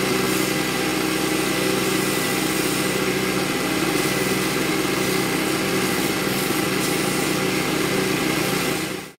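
A power sander drones steadily and loudly throughout while making knife templates, a constant high whirring motor hum that cuts off abruptly at the end.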